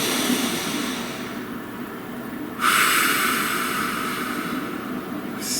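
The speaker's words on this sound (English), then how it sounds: "Please take a nice deep breath." One long, deep, airy breath is drawn in and let out close to the microphone over a constant background hiss.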